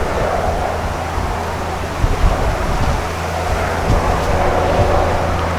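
Strong gusting wind roaring across an open roadside where RVs pass, a broad steady rush with sudden buffeting swells into the microphone.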